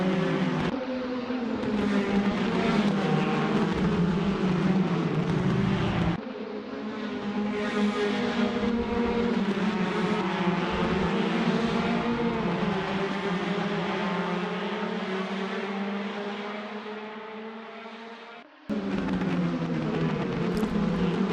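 Caterham 420R race cars at Cadwell Park scream past at full throttle in a continuous loud engine chorus, pitch rising and falling through the field, with a brief drop near the end before the roar returns.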